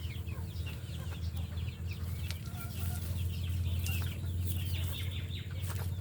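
Chickens cluck and murmur in a small backyard coop, with scattered close clucks over a constant low hum, moderately quiet, and no talking.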